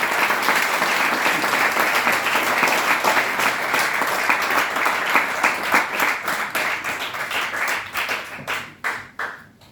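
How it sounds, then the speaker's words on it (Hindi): An audience at Hansraj College claps together after a Hindi lecture, a dense burst of applause that holds strong and then thins into scattered, separate claps before fading out. "अब आप ताली बजाइए"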